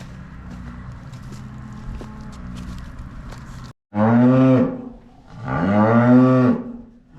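Cows on a farm give two long, loud, nearby moos one after the other, over a steady outdoor background hum, with no talking.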